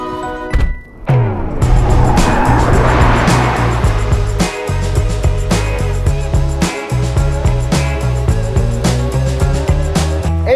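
A 2020 Tesla Model 3 Performance driven in track mode gives off a rising and falling electric motor whine with bursts of tire squeal, loud and close, with little talk.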